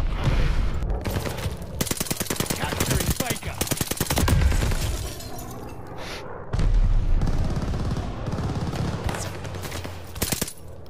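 Rapid automatic gunfire from a gun in Call of Duty Vanguard multiplayer on the Hotel Royale map rattles in loud bursts separated by short pauses, with heavier booms and a voice speaking in between.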